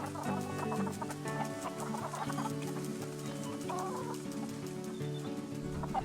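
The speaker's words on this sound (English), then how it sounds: "I love the chickens, they are cute the way they just waddle around and cluck" Barnyard chickens in a zoo-building game cluck and murmur in a busy, steady flock chatter, soft and continuous with scattered sharper calls, no voices over them.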